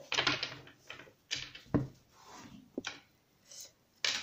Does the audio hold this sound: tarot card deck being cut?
yes